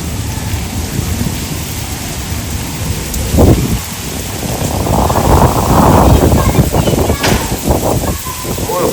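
Heavy monsoon rain pours down outside with a steady loud hiss, a thunder clap partway through and rising wind-driven rain, while a voice talks over it.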